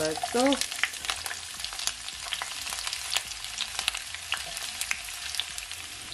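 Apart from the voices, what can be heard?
onions and carrot frying in vegetable oil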